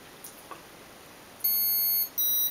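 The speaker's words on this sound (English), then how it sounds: "Three beeps is high, that's where we want it to get maximum power from the heli." An MJX F645 RC helicopter's brushless ESC sounds programming beeps: one long high electronic tone followed by a shorter one after a brief gap, clean and close over quiet background.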